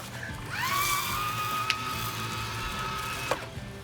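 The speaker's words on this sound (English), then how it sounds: "My neighbor has a battery-powered spreader." A battery-powered lawn spreader flings fire ant bait granules across a lawn with a steady whirring motor hum and rising whine, plus a couple of light clicks, fairly close and with no talk.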